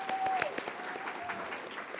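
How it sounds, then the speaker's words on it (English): Audience applause at a tech conference after a talk on Python string processing, a steady wash of many hands clapping that fills the whole stretch, with a faint tone drifting through near the start. "Let's give it another round of applause."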